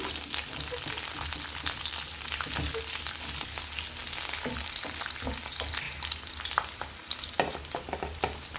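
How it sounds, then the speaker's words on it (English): Capsicum frying in medium-high hot oil in a wok gives a steady, loud sizzle throughout, broken by scattered sharp crackles and the scrape of stirring, with no voices. "Heat 2 tablespoons of oil in a wok. Add in the capsicum."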